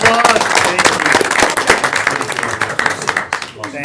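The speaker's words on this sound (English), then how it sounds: "All right, everybody, give a round of applause." An audience gives a loud, dense round of applause with sharp individual claps, while voices talk over it close by.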